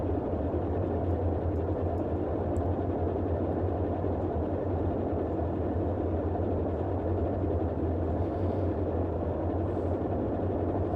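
Twin engines of a Boeing 247D running up together in a flight simulator, a steady, loud, even drone with a low rumbling hum that holds throughout.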